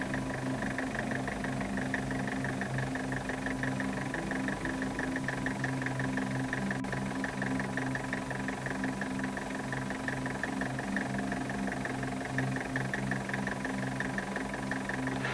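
A diesel engine fitted with a VE distributor-type injection pump idles steadily, a constant low knocking rumble with an even mechanical rhythm and no voices.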